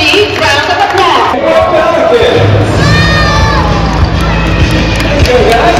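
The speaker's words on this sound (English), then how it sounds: "let's give Malikawa Ribbon Vulture a big round of applause" A bird-show crowd at an Asian-themed theater in Dubai Safari Park erupts in loud, close cheering and shouting for a vulture, a dense roar of voices that stays steady throughout, with a tonal whistle or call rising above it midway.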